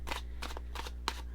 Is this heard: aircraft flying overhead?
no